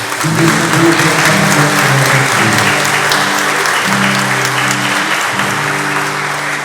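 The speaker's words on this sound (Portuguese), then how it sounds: "vamos dar uma salva de palmas aí à Beata Helena Guerra" Loud, sustained applause from a crowd at a Catholic Charismatic Renewal gathering, continuous clapping over a steady backing of held musical tones.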